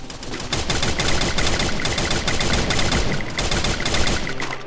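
Rapid automatic gunfire in the Free Fire battle royale game, dense sustained bursts of shots firing almost continuously at close range and loud throughout, with no talking.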